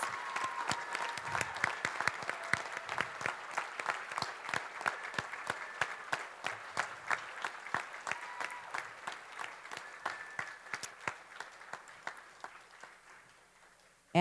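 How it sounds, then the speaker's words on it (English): An audience at a National Kidney Foundation event applauds caregivers with sustained clapping that starts full, settles into rhythmic, distinct claps and gradually fades. "So let's give applause for all caregivers."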